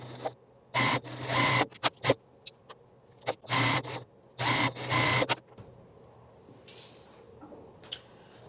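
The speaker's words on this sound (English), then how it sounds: "so now I'm going to just sew them using a 1/4 inch seam" A sewing machine stitches rows of a pinned quilt block with a quarter-inch seam, running in short bursts of fast mechanical whirring separated by pauses, close up and with no talking.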